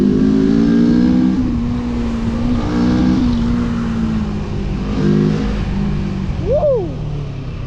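A 2022 NK 400 motorcycle engine runs loud and close, a humming drone that swells as the throttle opens, then a sharp rising-and-falling rev near the end.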